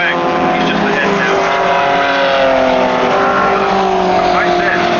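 Classic sports cars, including Lotus Elans, racing at Brands Hatch, with a loud, continuous engine roar and pitch sweeps as cars pass under a commentator's voice.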